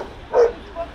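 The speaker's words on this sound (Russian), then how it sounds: "Собака лает на машины, печально скулит и отказывается от еды." A lone dog waiting at a bus stop gives a single short bark or yelp, close and brief, followed by a faint softer whimper.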